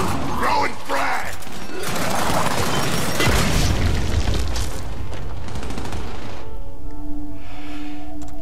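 Frag grenade explosion in the shooter game Gears 5, a heavy roaring blast with rumbling debris that swells then fades, amid game noise and someone talking.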